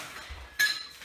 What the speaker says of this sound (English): We've got some screws for the door. Oops, just dropped one.